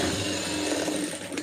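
A sewing machine runs a quick burst of stitches on a lining blouse, a close, steady mechanical whir with a rapid rattling rhythm and no talk.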